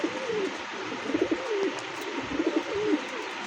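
Pigeons in a breeding loft coo in repeated soft, rolling phrases, several in quick succession and close by, over a faint background hum.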